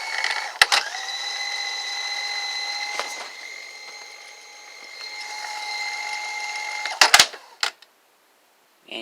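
A Sanyo VCR 7250 SuperBeta Hi-Fi video recorder rewinding a tape gives a steady mechanical whir with a sustained tonal hum, framed by sharp clicks and clunks of the transport mechanism at start and near the end, close and moderately loud.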